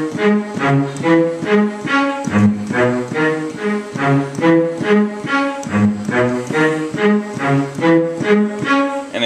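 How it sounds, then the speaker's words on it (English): Hip-hop beat built mainly on a looping bass line, a short riff repeating steadily with punchy drums, loud and upfront with no voices. "the whole beat is just mainly this sick bass line"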